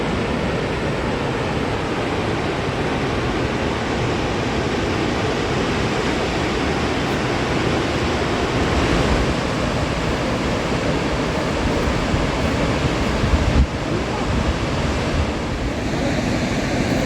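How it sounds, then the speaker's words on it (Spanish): Cachín waterfall in Lanín National Park, plunging over 30 m amid Valdivian rainforest, roars as a steady, dense wash of falling water, loud and unbroken throughout. "Esta es una de las cascadas más imponentes del Parque Nacional Lanín, que estalla en plena selva valdiviana"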